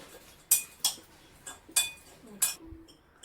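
A spoon stirs crispy fried corn in a bowl or pan, giving a series of sharp metallic clinks and scrapes in uneven rhythm, close and fairly clear, with no one talking.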